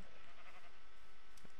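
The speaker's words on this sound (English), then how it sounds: "Aha, sheep." A single sheep bleats briefly in the blocky sandbox game Minecraft, a short, mid-level cry over a faint steady background with no talk.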